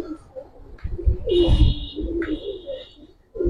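A pair of Giribaz pigeons cooing close by, low throaty rolling coos in a few bursts, with a brief high chirp from another bird in the background.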